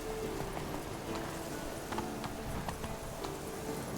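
Roach, a horse in The Witcher 3, gallops with steady, rhythmic hoof clops under a soft ambient bed, the beats quick and even throughout.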